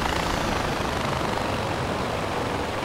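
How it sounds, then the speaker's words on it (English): A gyrocopter flying in the video game Far Cry 4 gives a steady, dense engine-and-rotor drone, continuous and fairly loud throughout with no talk over it. "Helicopter."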